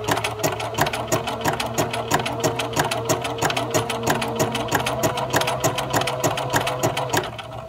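A BERNINA sewing machine stitches a Spanish hemstitch with fast, steady mechanical needle strokes, running continuously up close with no voices over it.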